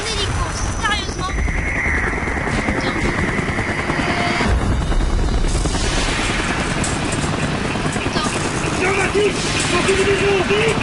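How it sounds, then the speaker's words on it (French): A helicopter in the Call of Duty Black Ops video game thunders with heavy rotor noise amid loud battle effects and booms, continuous and close, with a player's voice and game chatter mixed in. "Oh, un hélico, sérieusement."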